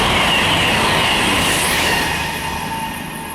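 A train passes on the Trent Valley line near Nuneaton, North Warwickshire, a loud, close, steady roar and rumble of rolling wagons that fades slightly toward the end, with no voices over it.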